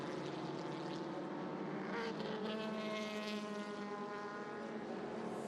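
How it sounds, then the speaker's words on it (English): A Scarab Mark 1 vintage race car runs on the circuit during a historic sports-car race, its engine a steady, loud droning roar with rising harmonic tones as it accelerates past, with no talk over it. "That's David Swig in that Scarab Mark 1"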